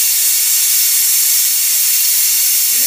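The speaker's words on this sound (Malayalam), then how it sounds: "നാലാമത്തെ വിസിൽ അടിച്ചു." Pressure cooker whistle venting steam while cooking jackfruit, a loud, sustained high hiss that holds steady without a break.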